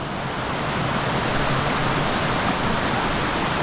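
A small trout creek flows and splashes in a steady, close, broadband rush, with no talking.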